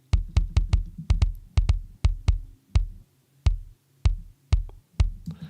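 Deep, punchy kick drum hits repeating in a looping pattern, some in quick pairs, others spaced out, each with a heavy low thump and short decay.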